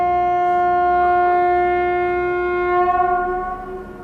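A steady tonal horn from a train at a nearby railway station sounds for about four seconds, heard from a third-floor rooftop behind a house. It stays loud and even, then fades slightly at the end.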